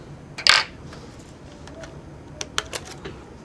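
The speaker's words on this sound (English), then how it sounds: "Keyboard's coming out now." A laptop keyboard is pulled free of its latches, making a sharp plastic clack followed by a few lighter clicks and taps a couple of seconds later, close and fairly quiet against a faint room hiss.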